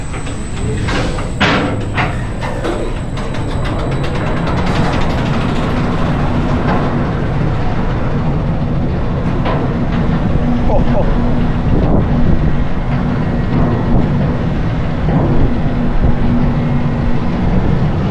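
A Joker roller coaster at Six Flags Great Adventure runs backwards, giving a steady loud roar of wheels on track and rushing wind throughout, with a sustained low rumble and occasional clatter. Rider voices come and go under the noise.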